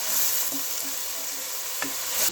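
Food frying in a pan for matar pilau, a steady broadband sizzle throughout with a few soft stirring knocks, close and continuous with no talking.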